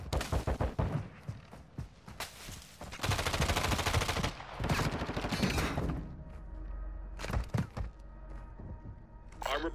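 Rapid gunfire fills a mini royale video game match, with sharp, dense bursts of automatic shots and thumping impacts in quick succession, loud and close, while a voice speaks intermittently underneath.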